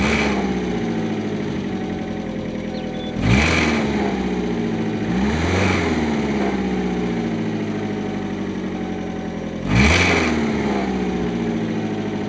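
A 2001 Kia Sportage engine runs after a cold start following repair, a steady idle close by with three distinct revs that rise and fall back to idle, and no talking.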